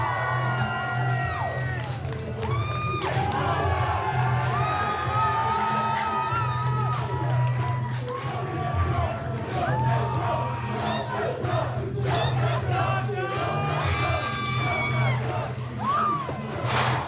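A large crowd roaring and cheering as entrance music plays, a loud sustained wall of shouts and whoops over a pounding musical beat.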